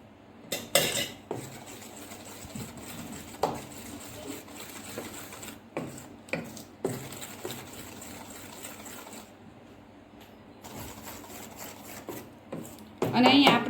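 Dhokla batter being mixed in a bowl as salt and groundnut oil are added, with intermittent spoon scrapes, clinks and wet rubbing at close range.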